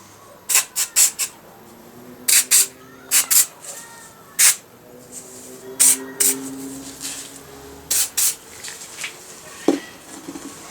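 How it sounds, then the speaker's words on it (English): Short hissing bursts of aerosol spray onto bolts of a 1991 Kawasaki ZZR600 motorcycle, in quick clusters, some doubled, separated by brief pauses, with faint background noise between them. "Let's get some spray on these."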